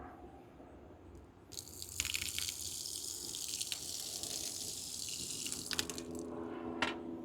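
Tap water running steadily into a sink in a home 3D-printing workspace, starting as a soft trickle and swelling into a strong continuous gush that fills the background, with no voices.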